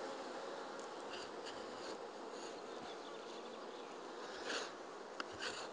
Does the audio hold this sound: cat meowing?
no